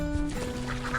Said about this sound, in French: Déçu, Coco va jusqu'à l'étang chercher ses amis les canards.